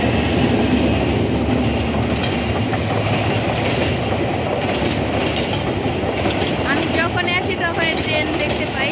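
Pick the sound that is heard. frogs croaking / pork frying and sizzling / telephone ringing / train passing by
train passing by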